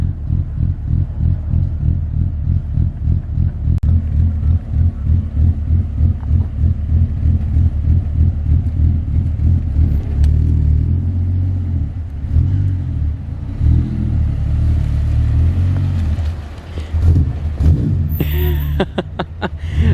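Ford Falcon FG Turbo with a ghost cam, idling with a loud, lumpy, uneven lope up close, pulsing steadily for the full stretch and shifting slightly toward the end.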